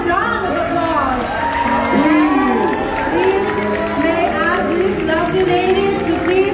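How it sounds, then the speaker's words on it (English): A crowd at the Mrs Euro-Phl Universe 2022 pageant cheers and shouts loudly and continuously, with voices carrying over the noise. "May I ask the audience to please give them another round of applause?"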